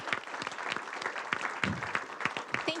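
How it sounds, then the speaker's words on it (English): An audience at a Madison mayoral candidate forum claps steadily for a few seconds, a dense even patter of many hands filling the room. "Let's give them a round of applause."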